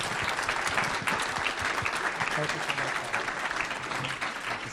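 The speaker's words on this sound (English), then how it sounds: "Let's give them a huge round of applause" Steady applause from a conference audience at the close of a panel session, dense clapping filling the room with a faint murmur of voices mixed in throughout.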